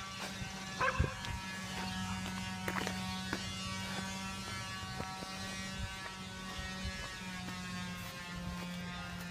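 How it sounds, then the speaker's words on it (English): A palm sander whirs steadily as a constant electric buzz with a strong hum, running throughout at moderate level, with a few brief knocks and bursts partway through. "Yeah, that's a palm sander."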